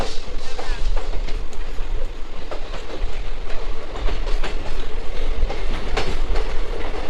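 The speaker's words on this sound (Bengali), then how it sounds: "ট্রেন ঢুকছে এবার বাগরাকোটে" A train rumbles along the rails through the Dooars forest, entering Bagrakot station, with a steady clickety-clack and low wheel roar, continuous and fairly loud from inside the carriage.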